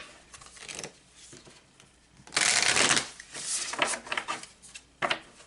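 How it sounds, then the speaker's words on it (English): Tarot cards are shuffled by hand up close, with soft riffles and flicks building to a louder run of rapid shuffling and brief pauses between bursts. "I love shuffling these cards."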